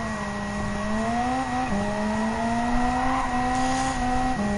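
A race car engine drones loud and close in Gran Turismo 7, its tonal whine holding pitch, then dropping and climbing again as gears change, with no voices over it.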